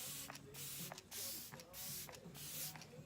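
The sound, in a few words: Glamglow Glowsetter makeup setting spray spritzed on face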